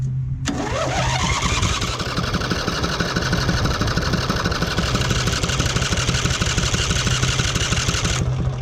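A Murray Select riding mower that had sat for a year cranks briefly, then catches and runs, its small engine chugging steadily and loud up close for several seconds before cutting off.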